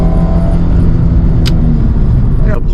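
A loud Nissan 300ZX Z32 engine roars steadily up close, revving with a sustained growl.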